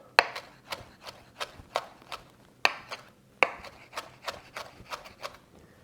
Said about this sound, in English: I like to go through just one more time with my knife just to give that a little bit more of a rough chop